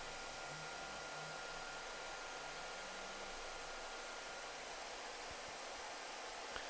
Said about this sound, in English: After setting the desired temperature, the heater starts.